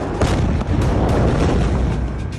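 A powerful explosion blast roars loudly and continuously, a dense rumbling boom with sharp bursts layered through it, filling the whole stretch without any voices.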